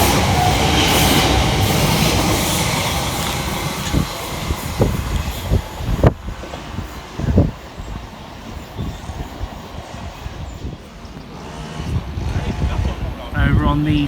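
Elizabeth Line train 345009 pulls away on the Great Eastern Main Line, a loud rolling rumble and rail clatter that fades after a few seconds, with a person speaking over it.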